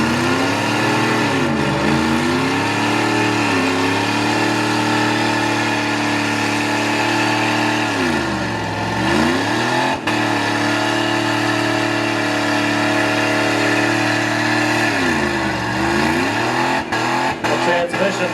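A mud bog truck with a 318 or 360 V8 engine revs hard at a mud bog park, its loud rumbling drone rising and falling in repeated surges with steady intensity throughout, ending in a few sharp knocks.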